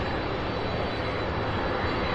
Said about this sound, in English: we've got some aircraft taxiing with more and more